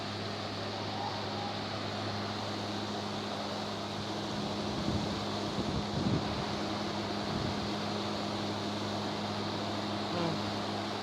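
A GE Midea 5,000 BTU window air conditioner runs with its fan only and the compressor off, giving a steady, moderately quiet broadband airflow rush with a low constant hum underneath, alone throughout.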